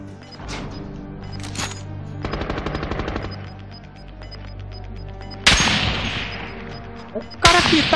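Call of Duty Warzone gunfire: a rapid automatic burst rattles off, followed by several loud, sharp single shots with echoing tails, mixed with in-game sounds and no talk over it.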